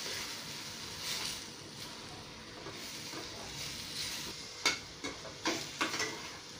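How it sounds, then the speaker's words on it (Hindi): Tomato puree frying with vegetables and spices for a mushroom and pea curry, a soft steady sizzle with stirring, ending in several sharp spoon clacks against the pan. "इसको भी सब्जी और मसालों के साथ में अच्छे से भून लेंगे।"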